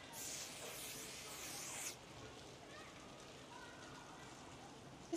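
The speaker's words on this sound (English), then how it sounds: "finally, I'm gonna try the One Size Until Dawn Setting Spray" A fine, hissing mist of makeup setting spray bursts for about two seconds close by, then stops, leaving quiet room noise.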